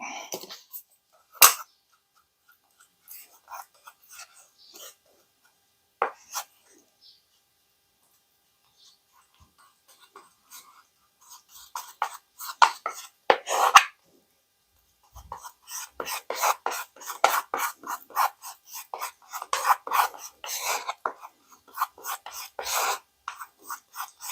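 Hardener being worked into plastic bumper repair filler, heard as scattered scraping and smearing strokes that start sparse and quiet, then grow into busier, louder bursts of rubbing, with no talking.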